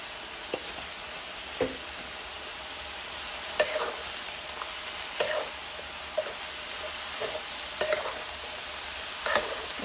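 Garlic frying in a pan of oil until golden, an even steady sizzle with scattered sharp spatter pops and occasional ladle taps every second or two, nearby and with no speech.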